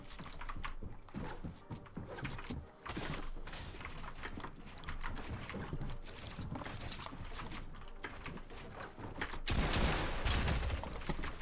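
Dense, rapid gunfire crackles and clatters almost continuously in a Fortnite match, with a louder burst near the end.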